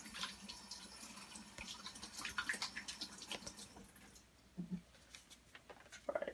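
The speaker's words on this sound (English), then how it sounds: "so we're gonna quickly wash our hands" Tap water runs steadily into a kitchen sink while hands are washed during cooking, a broad patter with splashes and drips that fades near the end.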